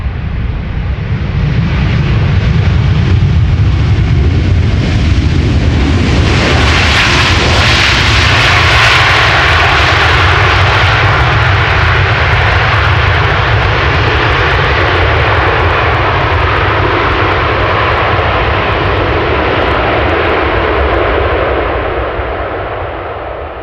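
Airliner jet engines roar loudly and continuously as aircraft land on the Polderbaan runway 18R at Amsterdam Schiphol, a broad sustained rumble that swells in the middle and fades slightly toward the end.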